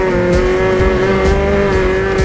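Engine of a Peugeot 205 T16 replica race car pulling hard at full throttle through a bend and shifting up into fourth gear, a loud steady drone close by with tyres scrubbing underneath.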